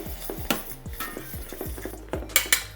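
Flour seasoned with black pepper and spices being stirred in a bowl, a rapid series of scraping, clinking strokes of utensil against dish, close and fairly loud, with no voices.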